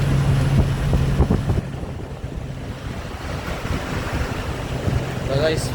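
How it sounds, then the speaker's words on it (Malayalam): Floodwater rushes in a strong current over a forest road in Karnataka, a broad continuous roar mixed with wind buffeting the microphone. "കംപ്ലീറ്റ് വെള്ളം കയറി കുത്തൊഴുക്കായിട്ട് പോവുക"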